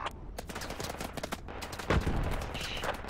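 Gunfire in the video game Project Reality: rapid bursts and single shots crackle throughout, with a heavier, louder volley near the end.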